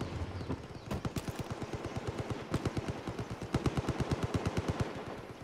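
Rapid gunfire in the video game Far Cry 5, long bursts of automatic shots in quick regular succession with a few separate heavier blasts, close and loud.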